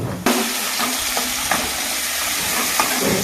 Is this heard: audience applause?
no